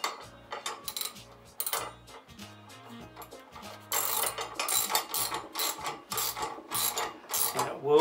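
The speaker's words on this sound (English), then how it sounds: "Now you use your 9/16 wrench and socket or combination." A 9/16 socket wrench ratchets as it tightens a bumper hook bolt down onto a neoprene washer, giving close, rapid clicking bursts in short strokes, with a brief pause between them.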